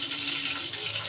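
Water running from a tap into a bowl of chili powder and spices to soak them in a home kitchen, a steady close hiss and splash that holds without a break for about a second, with no talk.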